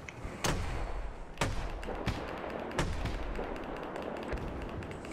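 Gunfire in Battlefield 1 multiplayer comes as several sharp, loud shots spaced about a second apart over a steady rumble of battle noise, with softer distant reports between them.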